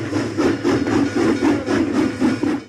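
A train sound effect plays during a game stream: rhythmic clickety-clack chugging of rolling railcars, loud and steady, with pulses repeating about every quarter second and no voices over it.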